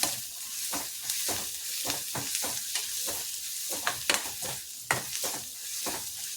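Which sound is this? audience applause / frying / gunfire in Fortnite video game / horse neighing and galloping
frying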